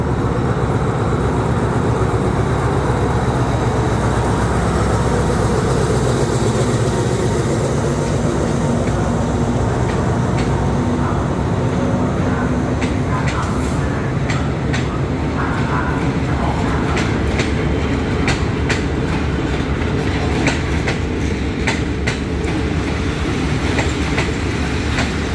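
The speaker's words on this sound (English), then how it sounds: "the train on the number 7 platform taking off right on time." A train rumbles and clatters as it pulls away from a platform at Hua Lamphong station in Bangkok, a loud continuous roll with rhythmic clicking wheels and occasional metallic squeals.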